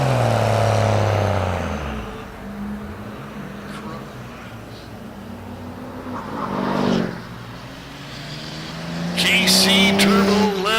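Diesel drag-racing trucks at the NHRDA Desert Diesel Nationals roar loudly with a heavy engine drone that fades, then surges again with tire noise, while an announcer talks over the track sound.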